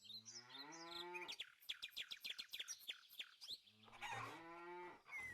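Cartoonish cows moo from the farming video game Farmer's Fairy Tale, with a long low moo, then a quick run of clucking chirps, then another moo, all fairly loud and alone.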